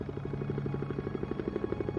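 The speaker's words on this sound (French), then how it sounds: "Guido Fernandez survole la zone du drame à bord d'un hélicoptère de la marine" A navy helicopter flying over an air crash site at sea gives a steady, rapid thudding of rotor blades, evenly pulsed and continuous throughout, with no voices.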